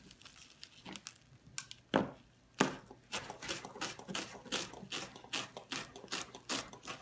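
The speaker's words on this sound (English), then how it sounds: "I'm gonna take both my mint and my cilantro and I'm gonna give it a good chop" Knife chopping mint and cilantro on a board, a run of sharp, close, fairly even taps with a few louder strikes early on, no talking.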